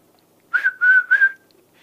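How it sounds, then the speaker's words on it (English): A normal sports whistle is blown in three quick, clear, shrill bursts, close and loud against a silent background. "if you have a normal whistle and you start blowing the normal whistle"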